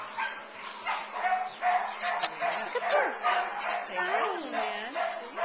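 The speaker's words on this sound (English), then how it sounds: "Chihuahua mix." A senior male Chihuahua mix, about ten years old, gives a few short barks and yips close by, mixed in with people talking over him.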